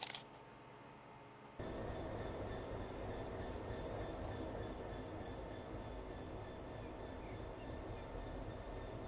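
A Freightliner freight train rolls past in the Train Sim World 3 simulator, a steady loud rumble of wheels and wagons that swells in abruptly after a quieter opening second and holds throughout.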